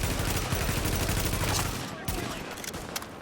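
Gunfire from The Division rattles in a dense, loud volley of rapid shots that thins into scattered single cracks, with talk mixed in.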